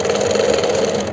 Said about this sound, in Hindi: इस तरह से सिलाई करनी है।